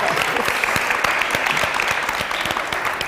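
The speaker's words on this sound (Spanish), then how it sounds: "Pero te aplaudimos nosotros" Audience at a panel discussion on the Mexican scene applauding, a dense patter of many hands clapping steadily and fairly close, with little talk over it.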